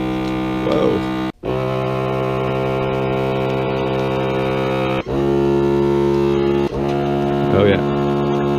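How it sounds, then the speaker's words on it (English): A loud steady electric motor drone of a vacuum sealer sealing a box of 9mm ammunition hums with strong tonal whine, briefly cutting out twice before resuming, with a short voice sound partway through. "I have come here to chew bubblegum and vacuum seal some ammo"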